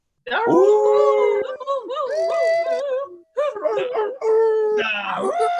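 Performers in a stage comedy of Shakespeare's The Tempest howl, hoot and screech with their voices, imitating wailing animal cries in long, wavering, continuous calls that rise and fall close by.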